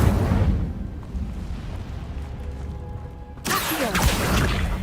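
Incendio fire spell cast in Hogwarts Legacy, a whooshing roar of flame that rumbles for a few seconds, then a sharp bright burst of crackling fire at close range.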